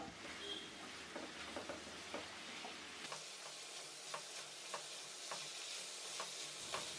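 Chicken with carrot and potato stirred in a pan, quiet and fairly distant, a low sizzle broken by regular light scraping taps of a spoon against the pan.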